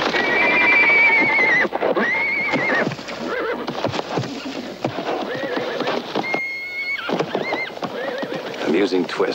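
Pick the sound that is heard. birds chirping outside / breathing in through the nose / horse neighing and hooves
horse neighing and hooves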